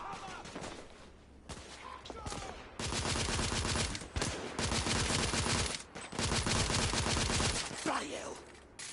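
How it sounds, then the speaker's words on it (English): Firefight in the video game The Order: 1886, with a few scattered shots and then long, loud bursts of sustained automatic fire, broken by brief pauses and a muffled voice in the quieter moments. "I'm taking suppressing fire! Galahad needs cover fire."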